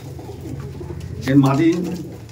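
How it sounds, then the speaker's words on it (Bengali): Abluk pigeons held in the hand give a clear, close, throaty coo that swells midway through, over a low murmur of background noise. "পায়রাগুলো একটু আপনার সাথে দেখানোর জন্য হাতে করে দেখিয়ে দিই"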